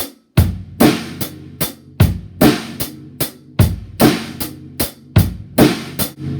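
A drum kit plays an eighth-note beat with the bass drum moved onto the second eighth note, in a steady pattern of cymbal-topped hits and thumping kicks, close and loud with no talking.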